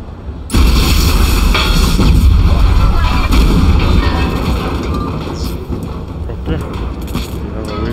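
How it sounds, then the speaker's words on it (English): A big explosion in the video game Watch Dogs, a sudden loud boom that rolls into a sustained heavy rumble and debris roar lasting several seconds, close and dominant. "Okay, this needs an explosion."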